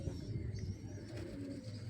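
Pigeons bathing at a window coo softly and low, a faint murmuring coo under steady background noise.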